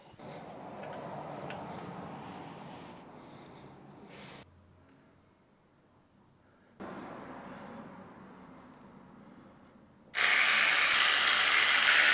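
Ratchet and pawl clicking while undoing differential cover bolts on an off-road rig, fairly close, in bursts separated by quiet pauses and ending in a loud, harsh, broadband stretch.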